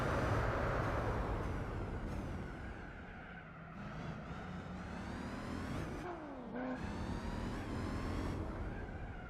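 Car engine in Gran Turismo 4, a 7-liter racer on a grippy tire setup, droning steadily with a rough, loud tone, pitch rising and falling through gear changes over a continuous close roar.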